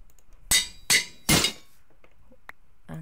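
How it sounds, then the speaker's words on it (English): An anvil breaks in Minecraft with three sharp, bright metallic clanks in quick succession, followed by a few faint small clicks and a brief tone near the end. "And there goes the anvil."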